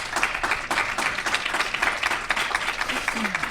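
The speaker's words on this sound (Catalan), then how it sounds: "si voleu podeu aplaudir ara" Audience clapping at a radio show just before a live concert, a dense steady patter of many hands held at an even level, with background talking mixed in.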